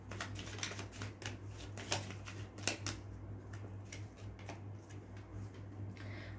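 Tarot cards shuffled by hand, a steady stream of light riffling flicks and taps over a low constant hum, close and fairly quiet.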